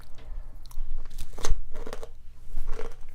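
Roasted chickpeas crunch sharply under close chewing, with several distinct bites and crackly grinding bursts spread across a few seconds, no talking.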